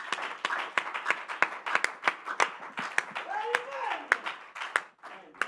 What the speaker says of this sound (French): Let's clap. Applaudissons le Seigneur.